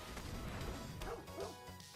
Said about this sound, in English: That dog always makes me a little scared.